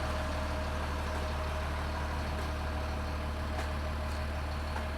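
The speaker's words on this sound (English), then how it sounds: "Just listen to how good the engine runs." A school bus diesel engine idles steadily at close range, a constant low rumble with an even mechanical hum and no voices over it.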